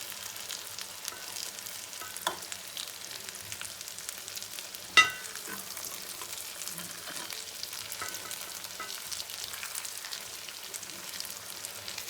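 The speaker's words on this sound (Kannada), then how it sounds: "ಎಣ್ಣೆಲ್ಲ ಆ ಕಡೆ ಈ ಕಡೆ ಫುಲ್ಲು 2 ಕಡೆನೂ ಫ್ರೈ ಆಗಬೇಕು." Brinjal slices fry in oil in a home kitchen, giving a soft, even crackle close by, with one sharp knock of a utensil midway and light stirring.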